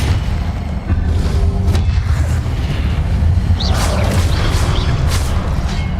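Booming Confringo blast spells go off amid whooshing spell effects during Hogwarts Legacy combat, loud explosive thuds layered over a steady rumbling battle din.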